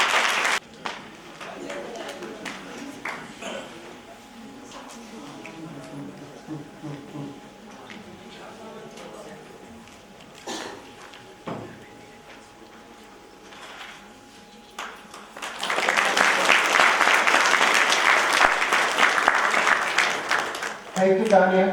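An audience at a university convocation in Uttarakhand bursts into loud, sustained applause after a stretch of amplified announcing in a hall, the clapping crowd filling the final seconds.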